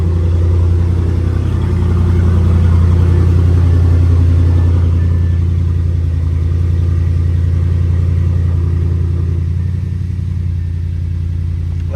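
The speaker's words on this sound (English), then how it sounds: "the car is running smooth" An Audi's engine idles after repair, a loud, steady low rumble close by with a slight rise in revs early on, then settling smoothly as the RPMs drop; no one speaks.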